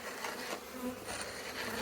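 Honey bees buzz steadily at a hive, a dense close drone that swells and eases slightly over a couple of seconds with no voices present.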